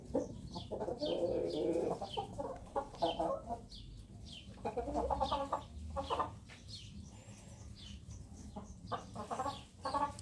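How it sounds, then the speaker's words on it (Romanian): Partridge Brahma hens cluck and call in a backyard coop, with repeated short, fairly close clucks and chatters in an uneven rhythm over a steady low background rumble. "Acestea sunt găinile Brahma Potârnichiu."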